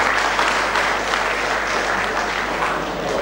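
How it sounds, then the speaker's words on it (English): Sustained applause from an audience filling an auditorium at a college summer fest, steady dense clapping with no talk, holding for a few seconds. "A round of applause for him, please"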